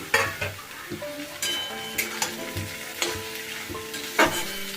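Cut eggplant sizzles in a pan with onion and garlic, frying loudly up close while a spatula stirs and clinks against the pan in irregular strokes.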